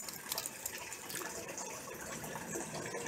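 Water runs steadily in a sewer in a wet yard, a continuous rushing gush that holds at an even level throughout, with no talking.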